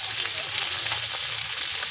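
Garlic paste sizzling as it fries in hot oil in a pan, a steady bright crackling hiss with small pops, fairly close and continuous, no voices.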